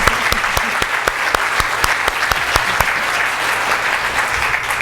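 Sustained applause from an audience at an EcoCAR 2 award ceremony, dense clapping with a few sharp louder claps standing out, steady throughout with no talk.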